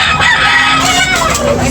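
A rooster crows loudly and close at a chicken market in Tabunok, one drawn-out call filling the whole moment.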